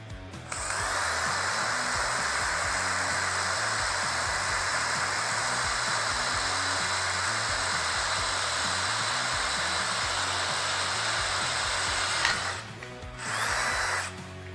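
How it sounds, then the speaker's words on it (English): A DEWALT DCD1007 brushless hammer drill spins a 4mm high-speed steel bit into 1mm plate, giving a loud, steady whir for about twelve seconds, then a brief stop and a short second burst in a workshop. "I'm going to be using a 4mm drill bit into a 1mm plate."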